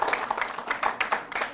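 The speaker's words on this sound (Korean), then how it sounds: "고생한 선생님께 박수 한번 부탁드립니다" A brief round of audience applause at a university results-sharing ceremony, moderately loud clapping from many hands that carries on unbroken for just over a second and a half.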